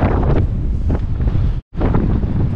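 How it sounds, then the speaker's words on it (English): Heavy wind in Kirkwall buffeting the microphone, a loud continuous rumbling roar with a brief dropout near the end. "It's another windy day today."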